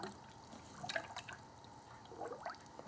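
Ethylene glycol coolant drains from a 1995 Oldsmobile 3800 engine during timing cover service, with faint dripping and a few gurgling air bubbles in short bursts.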